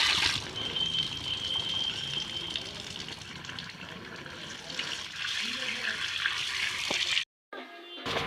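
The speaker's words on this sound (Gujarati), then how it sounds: "તો બાટલામાં થોડુંક પાણી ભરીને વિસળી નાખી બાટલાને." Water runs steadily from a tap into bottles being filled and rinsed outdoors, with a bright splashing stream; a voice speaks over it, and the flow cuts off briefly near the end.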